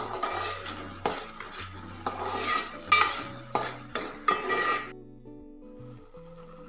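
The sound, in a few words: ginger garlic paste frying in oil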